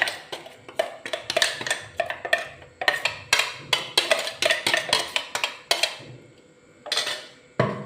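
Curry leaves for a fish curry being crushed with rapid, repeated sharp knocks and clacks, close and loud, in an irregular rhythm with a brief pause near the end.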